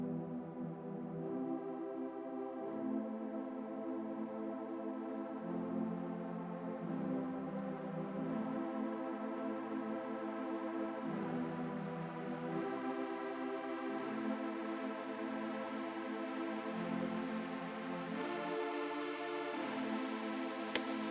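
Synth-driven vocal harmony plugin in a trance production session, a steady layered chordal texture with shifting stacked tones, moderately quiet and continuous for about twenty seconds, no talk.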